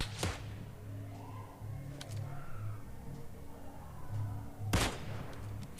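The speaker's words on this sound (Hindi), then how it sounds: "हमने उसको है कार 98 सेक दी" Kar98k bolt-action rifle shots in a video game crack sharply, with a few distinct reports including a loud one near the end, over a low droning game background.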